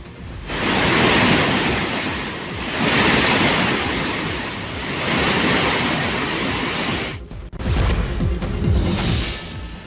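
Water released from the Basavasagar dam into the Krishna river at 90,000 cusecs makes a loud, continuous rushing roar that surges and eases, then briefly dips before resuming near the end.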